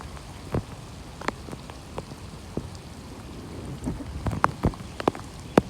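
Rain falls outdoors during a fishing outing, a soft constant patter dotted with sharper, scattered drops hitting nearby surfaces, with no talking.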